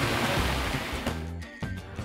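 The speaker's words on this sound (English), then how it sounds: "right behind us is the waterfall" A waterfall at the Dallas Arboretum gardens, heard as a steady, loud rush of falling water close by that fills the whole stretch.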